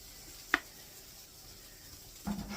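Onions dropped into a pot for a canned potato dish: a single sharp clunk, a quiet pause, then a soft sizzle starting near the end, faint and close, no talking.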